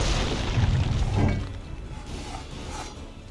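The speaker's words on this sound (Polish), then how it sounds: "Czy ktoś oprócz mnie tutaj strzela z tych armat cholernych?" Cannon fire in the video game Assassin's Creed 3 Remastered: a couple of booming low blasts early on, then a rumbling, clattering battle din that fades to a quieter background.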